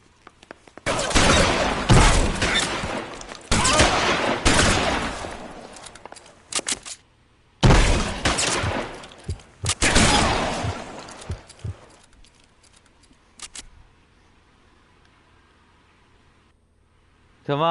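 Gunfire in the 1940s Los Angeles crime game L.A. Noire comes in sharp, loud bursts of blasts, clustered in several volleys with gaps, then trailing off into quieter game sound and voices.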